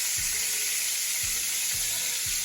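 Butter melts and sizzles in hot grease left from frying chicken fried steak, making a constant soft hiss with a few dull low thumps spaced through it.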